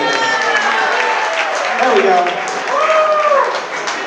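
Guests at a wedding reception applaud after a mother-son dance, steady clapping and crowd noise filling the room while a voice talks over it near the end.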